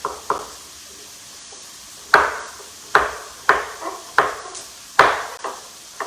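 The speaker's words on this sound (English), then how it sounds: "I love the sound of the knife on the butcher block." Sharp knife chops land on a wooden butcher block while cubing squash, in an uneven series of about seven close, crisp strikes with short pauses between them and no talking.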